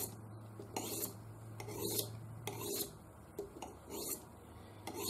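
Knife blade drawn along the coarse side of a Buck Edgetek Ultra Flipstik diamond sharpening rod: a steady series of close, gritty rasping strokes, about one per second, over a low background hum.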